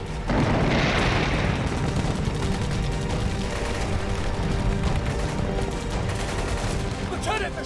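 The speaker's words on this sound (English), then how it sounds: "We started getting hit by mortars, heavy machine guns." Dense, continuous mortar and heavy machine gun fire with heavy thumps and booms throughout, loud and chaotic, with a rattling burst of machine-gun fire near the end.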